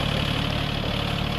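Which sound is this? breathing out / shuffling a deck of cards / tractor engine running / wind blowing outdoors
tractor engine running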